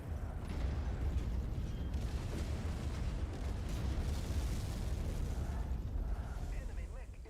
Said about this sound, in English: what the hell is bombing me?